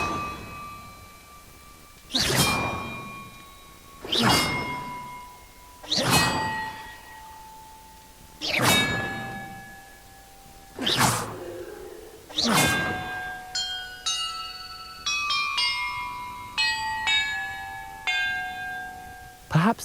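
Bells rung in the video game Hogwarts Legacy: six loud, resonant metallic strikes at steady intervals, each ringing out and decaying, followed by a quicker run of lighter chiming tones of varying pitch.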